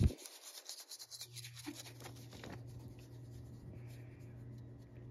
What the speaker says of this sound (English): It's hard to record when you're coloring.